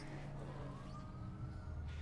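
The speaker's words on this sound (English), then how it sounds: "Sounds like a fire truck." A fire truck siren wails in distant street traffic, faint and muffled, with one slow rising tone sweeping over a low rumble.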